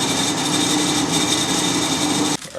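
A power drill bores a 1/4 inch hole through a scrap piece of 1/4 by 1 wood, a steady high whine running loud and close before cutting off abruptly near the end.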